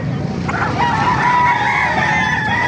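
A gamecock offered for sale at a market in Calumpit, Bulacan crows once, a loud drawn-out call close by, with background chatter and other birds.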